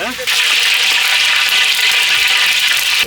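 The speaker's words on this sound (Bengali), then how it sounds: "সসপ্যান গরম হয়ে গেছে, তেলটা দিয়ে দিলাম, খাঁটি সরষের তেল" Pure mustard oil hits a hot saucepan and breaks into a loud, steady, bright sizzle that holds evenly for about three seconds, close and strong, with no talking over it.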